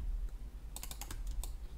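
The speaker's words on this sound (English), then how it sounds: "double click on this guy" A handful of quick mouse clicks while working in Maya 2024 on a 3D model, sounding as short, crisp taps in a brief cluster over a low background hum, with no talking.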